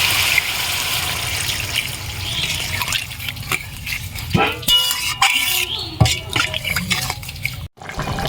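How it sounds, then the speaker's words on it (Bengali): Water is poured into a pan of browned chicken curry, a rushing, splashing stream up close that gives way partway through to clatters and brief bursts of bubbling, with no voices. "এখন আমি জল দিয়ে দেবো"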